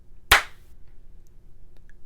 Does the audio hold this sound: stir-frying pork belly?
no